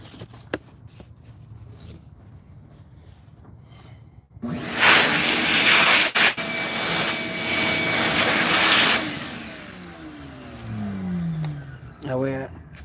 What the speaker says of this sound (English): Let me get the vacuum. It's gonna get loud